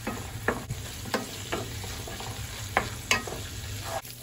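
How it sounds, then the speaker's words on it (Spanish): Chorizo sizzles in a pan while a spoon stirs it, giving irregular scraping knocks and sharp taps over a constant frying hiss, close up and without speech. "vamos a menear un poco el chorizo para asegurarnos de que quede bien guisado"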